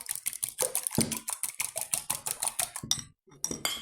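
Eggs being whisked in a bowl while baking homemade scones, a rapid run of clinking, scraping strokes with a brief pause near the end.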